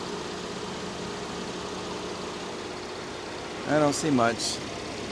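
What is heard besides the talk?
used car engine idling, running a little rough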